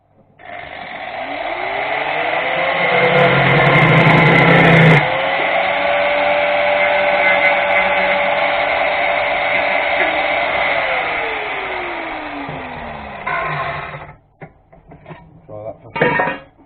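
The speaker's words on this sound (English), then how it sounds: "I've got a wire wheel on that, but the button doesn't work on that grinder" An angle grinder fitted with a wire wheel spins up and runs loud and close for about twelve seconds with a steady whine, its pitch rising, then dipping slightly under load, before winding down.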